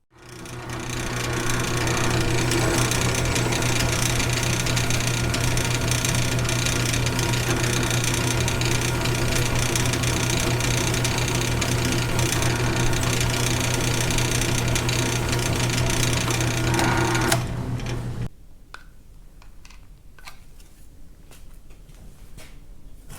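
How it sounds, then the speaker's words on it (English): A drill bores bolt holes for a line boring setup on a Caterpillar D2 crawler tractor, a loud steady mechanical whir with a constant hum that runs for about eighteen seconds, then stops abruptly into quiet with a few faint clicks. "We're going to drill and tap."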